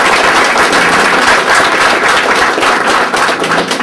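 A crowd at a veterans recognition event bursts into loud, sustained applause for a young high school speaker, a dense, continuous roar of many clapping hands filling the space with no voices over it.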